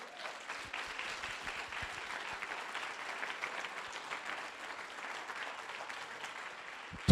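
A church congregation gives a sustained round of applause at moderate volume, steady clapping that fills the whole stretch before ending abruptly.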